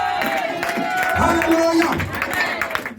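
A church congregation cheers and claps in praise of the Lord, a loud mix of shouts, clapping and voices rising together, with a speaking voice carrying over the crowd.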